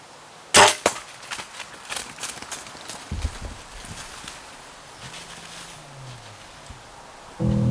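A compound bow releases an arrow at a mature buck during an October hunt: one sharp, close snap near the start, then quiet woods with faint rustling and scattered small knocks, and another thump at the end.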